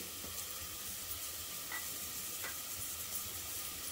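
Turmeric going into a sizzling pan while wet-pigeon-pea curry masala fries, a steady close hiss with a few soft stirring scrapes and no talking.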